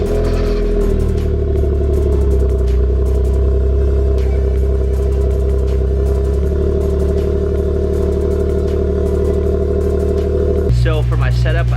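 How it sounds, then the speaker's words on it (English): A 2013 Infiniti G37S coupe with an HKS high-power catback exhaust and high-flow cats fires up from cold: a sharp crank and start, then a loud, steady deep idle rumble near the tailpipe, cutting off near the end as a voice begins. "let's go ahead and get a cold start of the G for you guys"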